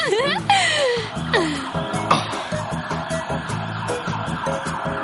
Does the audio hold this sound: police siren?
yes